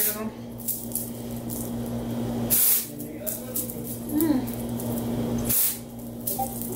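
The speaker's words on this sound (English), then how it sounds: "I'm going to be using the dry shampoo that also came with this box" Dry shampoo from an aerosol can sprayed onto hair in two or three short hissing bursts, close, with someone talking in between.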